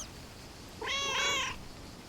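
A single cat meows in a video game, one clear drawn-out call of about a second, close and moderately loud over faint background ambience, with no talking.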